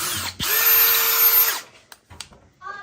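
A power drill whirs steadily for about a second, widening a hole in a wall for a screw anchor, then stops, followed by a few faint clicks and light handling noises.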